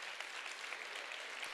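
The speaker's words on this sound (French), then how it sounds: "J'aimerais qu'on donne une bonne main d'applaudissement" Steady applause from an audience at a women's evening event welcomes performer Dominique Daigle, an even, fairly distant wash of many clapping hands with no voices over it.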